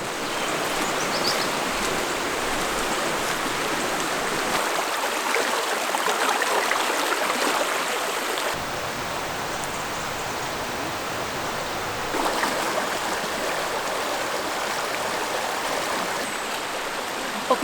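Loud, steady rush of water pouring and churning in Albania, a dense broadband roar like a torrent or waterfall close by, continuous throughout with no voices.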